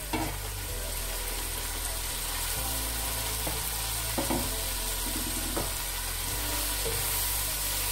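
Carrots and onions frying in a pan, a continuous close sizzle and crackle with occasional clinks and scrapes of stirring.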